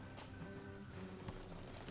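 Horses in the Red Dead Redemption 2 video game, with steady hoof clip-clop and faint snorting under a dense game soundscape, sounding fairly close for about two seconds.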